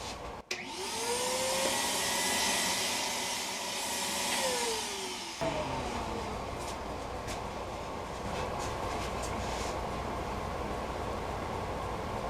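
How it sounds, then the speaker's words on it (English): Shop vacuum switching on with a rising whine and roaring steadily while cleaning out a turned wooden lazy susan, then cutting off and winding down into quiet room noise. "Vacuum that out, see what it looks like."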